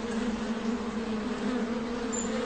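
Steady, close buzzing of bees in a cartoon, a continuous droning hum with no pauses.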